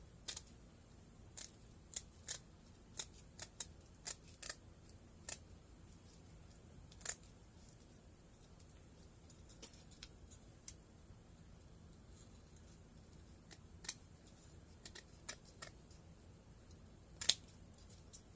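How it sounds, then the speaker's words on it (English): Scissors snipping through window screen mesh while building a swing bird feeder, a series of quiet, sharp clicks and snips scattered irregularly over a low steady background hum, with no talking. "These scissors cut well. Well, they cut the screen easy."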